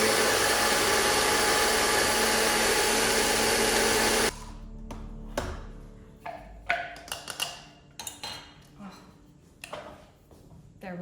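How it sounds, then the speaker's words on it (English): A hand blender's grinding accessory pulverizes dried lemon rind into powder with a loud, steady whirring roar for about four seconds. The motor then cuts off, leaving scattered close clicks and handling clatter. "I'm using my little accessory that I have with my hand blender."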